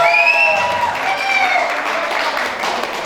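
Applause from a crowd at a school class reunion marking thirty years since graduation, during a gift presentation; steady, dense clapping fills the clip with a brief voice or two rising over it near the start.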